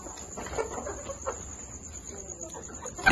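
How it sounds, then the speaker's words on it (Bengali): Ten to fifteen chickens on a flood-hit poultry farm in Begumganj, Noakhali, give scattered soft clucks at close to middle distance under a steady high background hum, with no talk. "এখানে 10 থেকে 12-15টা মুরগি আছে"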